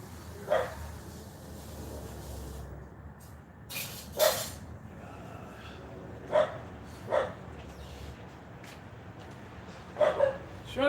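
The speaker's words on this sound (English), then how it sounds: "Shut that dog up." A dog barks in short, separate bursts, roughly six sharp yaps spread across the span, heard at moderate distance over a steady background hum.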